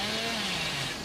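Chainsaw revving in the horror game Dead by Daylight, a steady buzzing drone with slowly falling pitch, loud and close throughout without speech.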